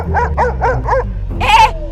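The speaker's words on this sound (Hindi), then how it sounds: "भौंकना बंद कर" A dog gives four quick, evenly spaced barks close by, then a louder, longer yelping bark that trails off.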